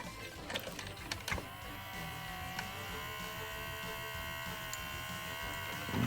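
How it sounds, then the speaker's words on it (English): A faulty motor in a 1980s Tomy Kongman mechanical Donkey Kong toy whirs with a faint, rough buzz. A few light clicks come early, then a steady grinding hum runs on alone. "So as you can hear, the motor is actually working, but it just sounds horrendous."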